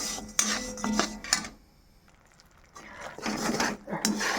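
A spoon scrapes and knocks around a pan while melted jaggery is stirred, bursts of metallic clatter and rubbing with a short quiet pause in the middle, heard close up with no speech.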